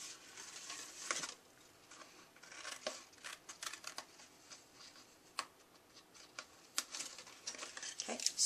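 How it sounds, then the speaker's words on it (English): Scissors snip through a paper card flap along a score line, a quiet run of small crisp cuts and ticks in an irregular rhythm, close up. "We're just going to cut on the score line."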